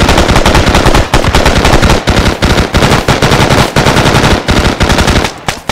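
Sustained automatic gunfire in a video game as prisoners are executed, loud close bursts of rapid shots with brief gaps between volleys.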